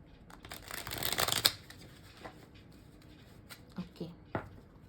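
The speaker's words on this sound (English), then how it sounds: "Okay, I'll do one shuffle." Tarot cards are shuffled by hand in a quick riffling burst that builds over about a second, followed by softer scattered card taps and handling noises close up.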